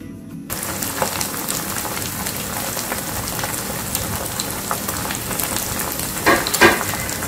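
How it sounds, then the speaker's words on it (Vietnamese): Cut pieces of vegetarian roast pork fry in a pan over low heat with a steady, dense sizzle, crackling up briefly toward the end. "sau khi mình cắt ra như thế này giờ mình đem đi chiên nha"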